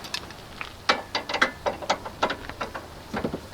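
A ratchet tightens the top mount nut on a Nissan 350Z, giving quick irregular bursts of small metallic clicks, close and fairly quiet, with no talking.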